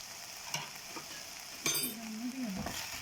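A spoon scrapes and stirs a chicken fajita mixture with red chili and oregano in a sizzling pan, with a few sharp clinks against the metal over a steady frying hiss.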